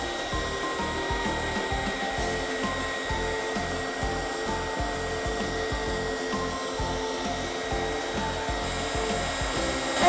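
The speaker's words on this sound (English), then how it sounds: "we're going to take the blow dryer, we're going to direct it at our bumper sticker" A handheld blow dryer aimed at a bumper sticker on a car, a steady close-up whooshing hum with a faint rhythmic flutter from the airflow, running on alone throughout.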